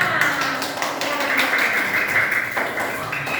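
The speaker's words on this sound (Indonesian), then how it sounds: "Oke, tepuk tangan dulu semuanya." Classroom students clapping together after a group's presentation, a steady cluster of hand claps with voices mixed in.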